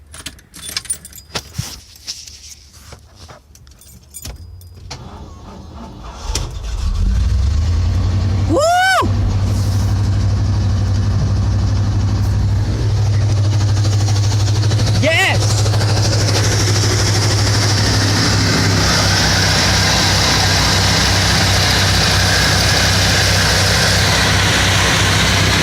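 Keys jangle before a truck engine cranks and starts, then settles into a loud, steady, heavy low idle that continues to the end, close by.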